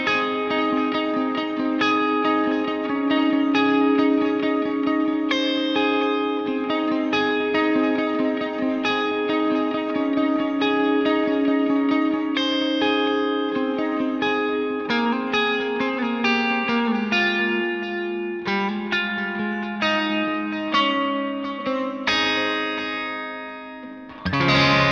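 An electric guitar run through distortion and chorus effects plays a steady chordal passage with picked notes, loud and continuous, no voices.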